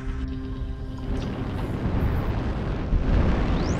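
Airstrike explosions in MechWarrior Online: a loud, rumbling barrage of blasts that builds and thickens across the clip, heavy low booms churning together with a rising whine near the end, no voices.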